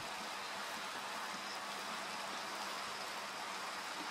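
Steady rain falls in the Minecraft video game, a constant faint hiss of drops spread evenly throughout with no speech.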